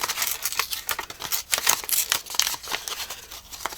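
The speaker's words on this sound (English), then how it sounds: "I'm going to tear around this one." Paper being torn around a cut-out plant shape for a mixed-media board, a series of short, close rips and crinkles in quick uneven bursts, with no talking.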